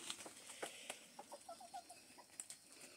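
Chickens cluck faintly inside a coop on a small farm, giving a few short, soft calls amid quiet rustling and background noise, with no talk.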